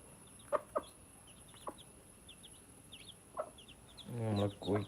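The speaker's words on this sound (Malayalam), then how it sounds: "നമ്മളെ കോഴിക്കുഞ്ഞുങ്ങൾ" Faint, high peeps from chicks repeat in small clusters against a quiet background, with a few soft knocks, then a voice speaks near the end.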